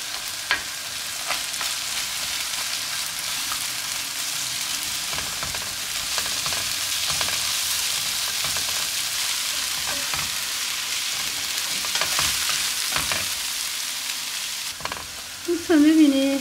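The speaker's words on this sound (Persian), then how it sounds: "دوستان ببینید قشنگ دیگه تفت خورد" Tomatoes sautéing in butter and oil, giving a steady, moderate frying hiss with occasional faint stirring scrapes throughout.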